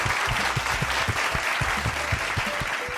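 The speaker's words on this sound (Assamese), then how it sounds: "আৰু ঋকৃষ্ণ বাৰ কাৰণে এটা হাত চাপৰি।" Steady applause from a children's event audience, dense overlapping claps sustained at an even level throughout, with no talk over it.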